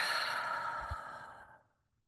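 A deep exhale during a guided breathing exercise: one long, steady breath pushed out and fading away over about a second and a half, close and fairly soft, with no talking.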